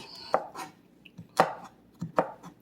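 Knife chopping bacon on a cutting board: about five sharp, close knocks in an irregular rhythm, each with a short thud, no talking.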